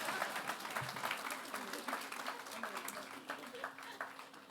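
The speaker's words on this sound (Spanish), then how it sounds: "Le damos un fuerte aplauso." A congregation at a church congress claps warmly for the pastor's wife, a dense, moderately quiet round of applause with voices murmuring underneath.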